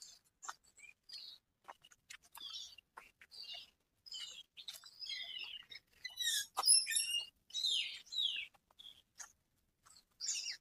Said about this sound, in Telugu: అసలు బర్డ్స్ కానీ నేచర్ ఎంత బ్యూటిఫుల్గా ఉందో వినొచ్చు